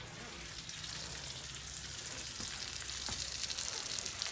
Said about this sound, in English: Put a little olive oil on it, and then I put it in the pan just so I can get it brown